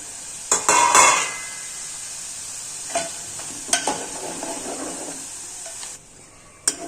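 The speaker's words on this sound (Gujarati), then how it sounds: "ગરમ તેલમાં આપણે મેગી છે તે ફ્રાય કરી લેશું" Maggi noodles fried in hot oil for manchow soup, a bright hiss that swells in the first second and then settles into a quieter sizzle, with a few clinks and stirring knocks near the end.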